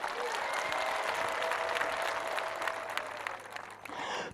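Worshippers at a church service give sustained, dense applause, a close and loud wash of many hands clapping with crowd murmur beneath, easing slightly near the end.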